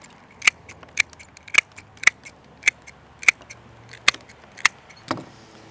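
Scissors snip through dahlia stems while a garden-style bouquet is trimmed, eight or nine sharp, crisp cuts spaced about half a second apart, close and clear with no talking.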